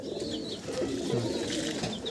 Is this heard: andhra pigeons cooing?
yes